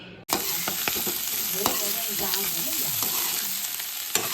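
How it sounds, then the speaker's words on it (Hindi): Potatoes fry steadily in a pan in a village home kitchen, a loud continuous sizzle with occasional light ticks and scrapes, close by and with no talking. "मैं अपने लिए बना रही हूँ यहाँ पे आलू फ्राई"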